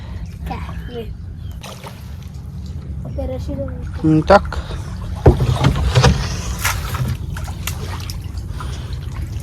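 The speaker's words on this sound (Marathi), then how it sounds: "आज होडीतनं जाऊ काळ टाकायला" A small boat heading out on water to set crab traps, with water lapping and splashing against the hull and a few louder splashes midway while people talk nearby.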